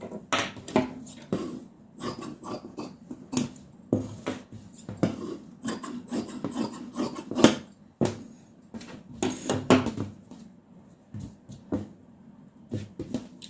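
Scissors snipping freehand through blouse cloth, a long run of sharp, irregular cuts and clicks close by, with quiet pauses between bursts.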